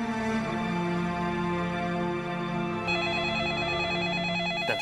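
Telephone ringing indoors in a family home, a continuous trilling electronic ring with warbling pulses, steady and clear with no talk over it.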